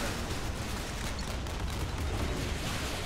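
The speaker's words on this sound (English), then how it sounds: "Okay, more missiles." Warship missiles fire in the Modern Warships naval combat game, a dense, continuous roaring barrage of launches and blasts at steady loudness with no pauses.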